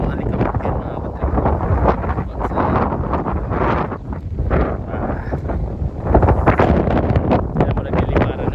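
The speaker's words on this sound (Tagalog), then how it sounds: "Kung nakikita nyo kung gaano kalakas ang hangin na yan." Strong sandstorm wind on a farm during harvest, roaring and buffeting the microphone continuously and loudly, with gusts swelling toward the end.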